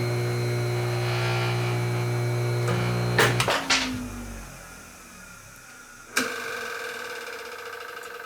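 The electric motor of a restored horizontal shaper hums steadily, then a few sharp clatters sound, the hum winds down, and a loud click brings a new steady tone.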